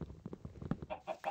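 Quiet, quick clucking from chickens in the Minecraft video game, several short bursts in a row with no talk over them.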